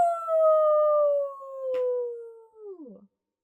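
A single human voice imitating a wolf howling at the full moon, one long sustained wavering tone that slowly drops and then falls off sharply at the end, close and loud.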